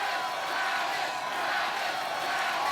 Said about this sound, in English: They're screaming Travis right now